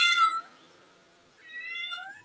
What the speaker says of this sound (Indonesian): betina birahi seperti ini ya suaranya.